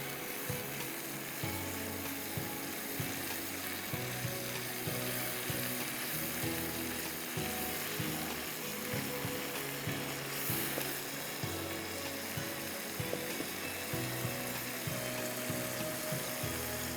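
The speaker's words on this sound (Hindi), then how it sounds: "थोड़ा मसाला भून लूँ।" Steady sizzling of masala spices frying in a pan for kofta curry, with nutmeg, mace and green cardamom in the mix; a constant close crackle with faint scraping and no speech.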